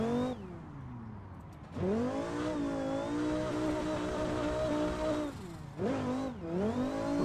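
A Viper sports car engine in a racing sim on tight mountain roads revs and winds up and down in pitch, dropping off briefly between pulls as it slows for corners, with no talking.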